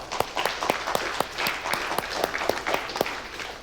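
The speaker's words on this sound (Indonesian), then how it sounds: "Tepuk tangan dulu mama" Congregation at a Sunday church service clapping for mothers: a fairly loud burst of applause with distinct, roughly even claps repeating through a dense crowd wash, sustained throughout.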